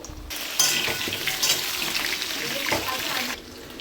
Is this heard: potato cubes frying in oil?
yes